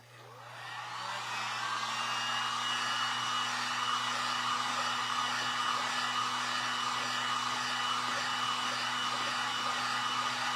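A hair dryer blows steadily on freshly painted pieces, rising from a brief start-up into a loud, constant whir with a high fan hum that runs alone without a break.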